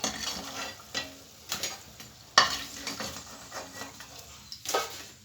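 Gujiya frying in oil over a medium flame in a home kitchen, a steady soft sizzle broken by several sharper scrapes and clinks of a utensil stirring or lifting the pastries, heard close.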